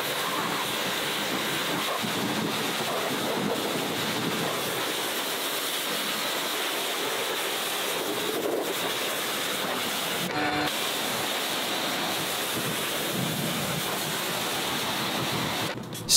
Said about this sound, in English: it's time to rinse it off from the roof down.